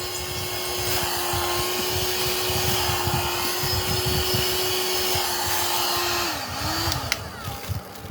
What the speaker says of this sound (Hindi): ये है जी वैक्यूम, पावर ऑन है।